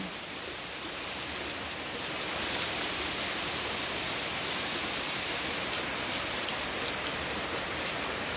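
Sudden rain falls continuously in Singapore, growing slightly heavier after a couple of seconds, a full hiss of drops striking surfaces nearby.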